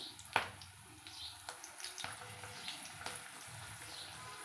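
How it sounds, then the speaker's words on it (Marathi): Chilies coated in gram flour batter slide into hot oil for mirchi bhaji, making a steady soft sizzle with a sharp splash at the start and faint bubbling throughout, with no talk. "ह्या पिठामध्ये टाकून हे तेलामध्ये सोडत आहे"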